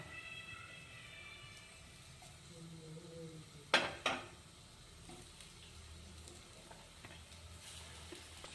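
Eggplant pieces fry in a couple of spoons of oil in a pan with a low, steady sizzle, broken by two quick metallic clinks of a utensil partway through.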